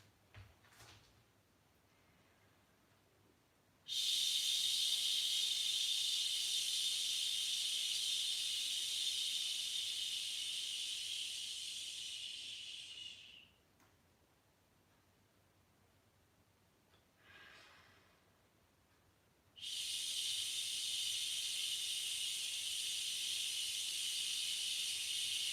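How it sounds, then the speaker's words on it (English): Sustained shh hissing exhalations in a breathing exercise, two long, loud, steady hisses, the first about ten seconds and the second starting later and running to the end, separated by quiet. "we're going to switch to a shh sound"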